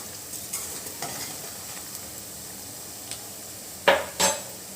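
Gathi curry frying in a pan gives a steady, soft sizzle, with a couple of sharper utensil clanks near the end.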